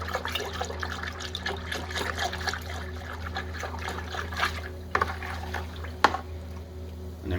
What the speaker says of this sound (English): So once part A's in, give it a nice big mix around.